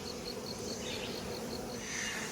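Honey bees buzzing around open hives during a nectar flow, with bees trying to rob at the hive gaps; a continuous soft, even hum with a few individual bees droning closer past the listener.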